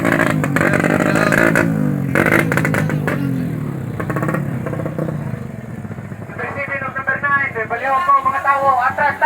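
Motorcycle engines rev and rumble loudly nearby, a deep growl giving way to sharper, rapid revving toward the end, with voices mixed in.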